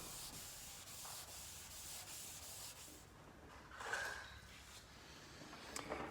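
Sandpaper worked by hand across the clear coat of a Fiat Siena, steady rhythmic rubbing strokes, quiet and close, with a brief louder scrape near the end and no talk.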